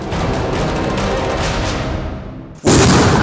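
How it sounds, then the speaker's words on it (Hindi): A rumbling, sustained roar fades away, then a sudden loud blast bursts out with a sharp, broad crack from a controlled detonation of an IED beside a highway. "आप सुन सकते हैं, बहुत जबरदस्त धमाका हुआ,"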